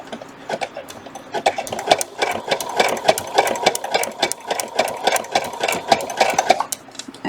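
An embroidery sewing machine stitches a hooded towel, its needle hammering in a fast, steady mechanical rhythm with a humming motor underneath, running continuously up close until it stops near the end.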